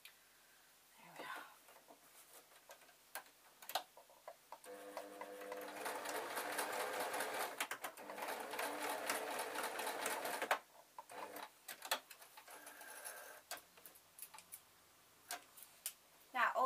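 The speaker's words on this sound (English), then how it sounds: "Now, although this machine doesn't do double stitching, it does have a couple of stitches that the first machine doesn't have." A sewing machine stitches a sarong with a rapid, close mechanical whir that runs for several seconds between softer clicks and handling noises.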